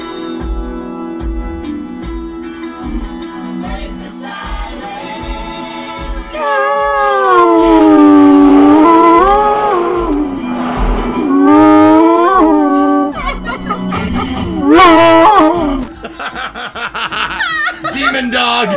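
A pet dog howls and yowls along to a song played loud, its long wavering howls rising over the music for several seconds in the middle of the track.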